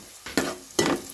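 Food frying in a pan is stirred twice, each stir bringing a brief sizzling scrape, with a low steady sizzle between and no voices.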